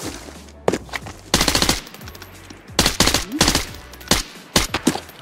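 Automatic gunfire in the video game Arena Breakout Infinite: loud, close bursts of rapid shots separated by short pauses, with single sharp cracks in between and no talking.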